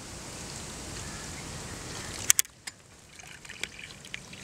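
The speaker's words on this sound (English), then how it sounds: "I'm gonna pour some water into this." Water poured into a condom, heard as a soft, close trickle that stops partway through, followed by a few faint clicks and taps.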